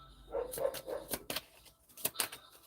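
Several dogs bark faintly in short, scattered yelps, distant and quiet against a low background.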